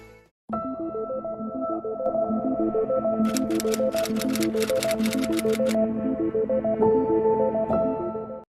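Rapid typewriter key clatter in a dense burst, played over a steady tonal musical backing, fairly loud and with no talking.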